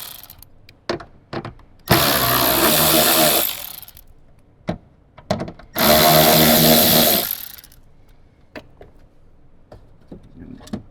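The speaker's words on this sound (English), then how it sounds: "then we're going to grab our Phillips head or 10mm socket and remove the 3 bolts." Bolts on a 2024 Toyota Land Cruiser door speaker are driven out with a power driver and 10mm socket in two loud whirring bursts of about one and a half seconds each, close by, separated by handling clicks and light talk.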